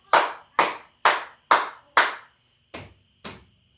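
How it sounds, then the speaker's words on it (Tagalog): A classroom of students claps in unison five times in an even rhythm, then stomps twice, the two stomps duller and heavier, each beat sharp and distinct with silence between. "bigyan nyo ng limang palakpak at 2 padyak ang inyong mga sarili"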